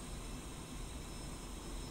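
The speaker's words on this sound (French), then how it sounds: "Voilà, l'avion avance." A Sukhoi Su-25T Frogfoot jet taxiing on the ground in DCS gives off a steady, dense engine roar and whine. The sound is constant and unbroken, with no talk.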